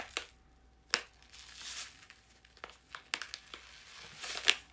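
A drink powder sachet is torn open by hand with no scissors, giving several sharp crinkling and tearing bursts of plastic film spread across the clip, close and fairly quiet, with no talk.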